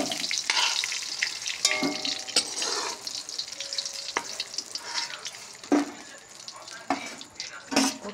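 Slices of pointed gourd (potol) frying in oil in a pan, a continuous crackling sizzle with occasional utensil scrapes and clinks, close and steady, some faint background voice.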